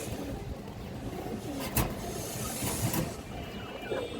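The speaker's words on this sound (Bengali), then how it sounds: "দেখেন বিগ সাইজের মাদি কবুতর" Pigeons, including big red female birds for sale, coo softly over a hissy background with a couple of brief sharp knocks, no voices.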